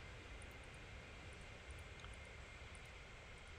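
Steady, even engine roar of an EasyJet airliner in the Transport Fever simulation game, a continuous broadband drone with no breaks or talk.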